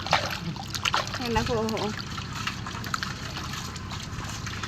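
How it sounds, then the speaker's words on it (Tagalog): Water trickles and splashes as crabs are rinsed in a basin, with soft sloshing close by under people's talk. "Hugasan po namin yung mga kimpi."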